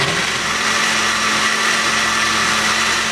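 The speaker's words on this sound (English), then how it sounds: "Okay, so we have everything in the blender now." A blender runs steadily at high speed, whirring through a blend of ginger, apple, kale and coconut milk, one continuous loud motor drone with no talk.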